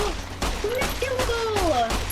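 Gunfire in the Fallout: New Vegas video game, a rapid string of sharp shots about every quarter second with whistling ricochet-like tones between them, steady and fairly loud.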